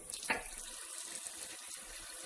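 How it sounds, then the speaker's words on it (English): Water runs from a kitchen tap while a pan is rinsed, a steady hiss of flow with a brief splashy burst near the start, fairly quiet and with no talking. "I just rinsed the pan off"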